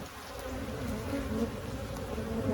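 Honeybees hum in a steady, dense drone from an open hive frame with brood, close and continuous throughout, with no talking.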